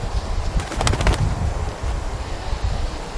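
Dozens of Himalayan vultures squabble over a carcass in the high Pamir mountains, a close, loud jumble of wingbeats and scuffling with a sharp flurry of flapping in the middle.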